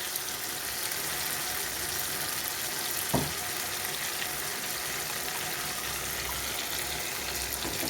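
Water poured into a pan of cooking mustard-poppy paste fish curry gives a steady soft sizzle and watery wash throughout, with one brief clatter near the middle and no talk.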